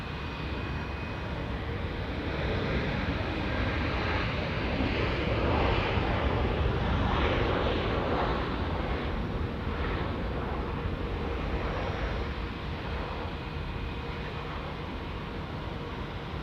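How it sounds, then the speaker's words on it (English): An Airbus A320 arrives on runway 23 at Auckland Airport, a continuous broad jet roar that swells slightly mid-way and stays steady throughout, with some wind rumble. "All Black service coming in from Wellington now, A320. Runway 23 here in Auckland."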